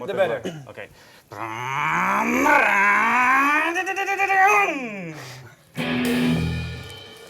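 A man imitates a motorcycle roar with his voice: a loud, sustained growl that rises and falls in pitch for several seconds, followed by a short burst of vocal noise.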